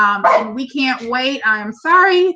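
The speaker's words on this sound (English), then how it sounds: "that was my dog." A pet dog barks in short yappy bursts, close and loud, mixed in with someone talking over it.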